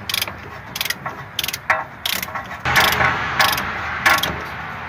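A ratchet wrench tightens the lower ball joint nut on a 1996–2004 Toyota Tacoma, giving loud, close bursts of quick clicking with short pauses between the strokes and no voices.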